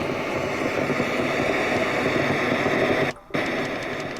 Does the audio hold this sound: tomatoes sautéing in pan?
no